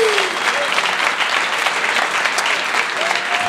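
Audience applause at a live podcast taping fills the whole stretch, a dense steady clatter of many hands clapping at even loudness, with a brief voice or whistle faintly rising through it.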